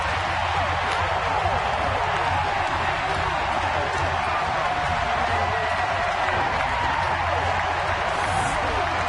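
Baseball stadium crowd in San Francisco cheering and applauding after a game-tying line drive, a dense sustained roar of many fans that stays loud and even throughout.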